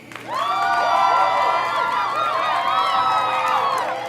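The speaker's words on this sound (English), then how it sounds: "Round of applause to Steve O'Brien." Loud, sustained cheering and whooping from a crowd, with applause rising sharply at the start and holding steady for several seconds before tailing off.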